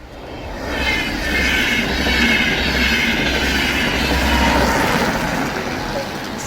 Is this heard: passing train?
yes